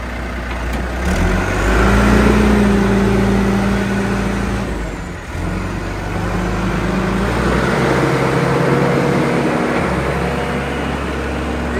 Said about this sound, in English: Running it through the gears right now.